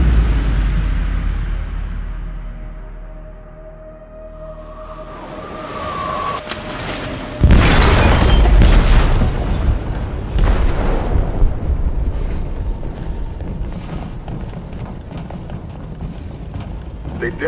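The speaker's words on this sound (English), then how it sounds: "They detonated an explosive in the hold." A deep explosion bursts in a ship's hold in Detroit: Become Human, erupting suddenly after a quieter tonal stretch and followed by a long, loud roaring rumble of debris and rushing noise.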